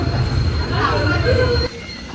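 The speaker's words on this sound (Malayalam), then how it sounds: "ഇതെന്താ എടുത്തിട്ട് പിന്നെയും പെട്ടെന്ന് ചവിട്ടുന്നത്?" A passenger train between Trivandrum and Nagercoil gets under way then brakes abruptly, low wheel rumble with squealing metallic tones before the noise drops off sharply near the end.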